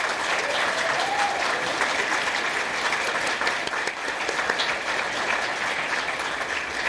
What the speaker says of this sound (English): faculty, would you please rise and just say, take some applause